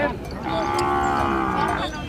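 A water buffalo at the Nong Khae livestock market lets out one long, loud, close bellowing moo that fills most of the moment, with no talk over it.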